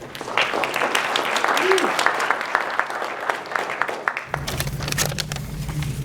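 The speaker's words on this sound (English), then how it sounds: "I love how the guy with the money gets a higher applause" An audience at a public grant forum in Valemount, BC claps to welcome the mayor, a steady round of applause with a voice talking over it partway through.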